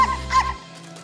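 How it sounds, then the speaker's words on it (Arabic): Short cartoon dog barks, two quick yappy woofs close up in the opening half second before fading into quiet background. "سمعت صوت نباح"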